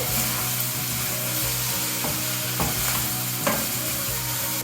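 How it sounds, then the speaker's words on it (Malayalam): Onions, green chili, coconut pieces and curry leaves sauté in a hot pan, a loud continuous sizzle and crackle of frying oil with occasional scraping stirs, close up and free of talk. "പച്ചമുളക് തേങ്ങാക്കൊത്ത് ഇതെല്ലാം ചേർത്തിട്ട് നന്നാക്കി ഒന്ന് വഴറ്റിയെടുക്കുക."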